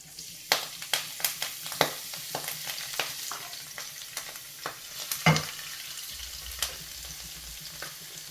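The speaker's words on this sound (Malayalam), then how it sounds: "നെയ്യിലേക്ക് നമുക്ക് ഈ ഉലുവ ഇല ചേർത്ത് കൊടുക്കാം" Fenugreek leaves hit hot ghee in a pan, giving a soft continuous sizzle punctuated by sharp crackles and pops, with occasional stirring clatter, close and fairly quiet.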